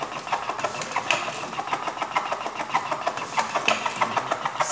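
A tobacco rolling machine runs close by with a fast, even mechanical clatter of repeated clicks and whirring, steady throughout with no talk.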